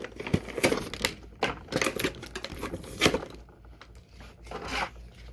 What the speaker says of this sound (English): This one's kind of not wanting to come off the card.